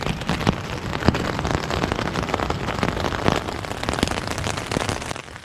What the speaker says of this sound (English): The rain has arrived, and I hope it's not here to stay.